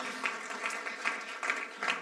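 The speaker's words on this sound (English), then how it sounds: "Now you can applaud." An audience at an evening library talk applauds, a faint, thin patter of clapping from the room that pulses unevenly over about two seconds.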